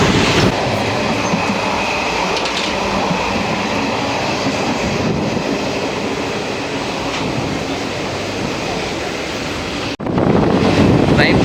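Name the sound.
express train running fast, Trichy to Tambaram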